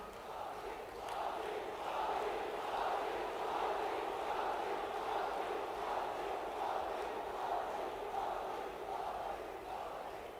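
A large crowd at the inauguration of Shri Mahakal Lok cheers and claps in welcome, a steady roar of voices and applause that holds for the whole stretch, dense and fairly distant.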